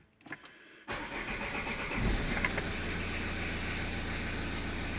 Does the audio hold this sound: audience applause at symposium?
no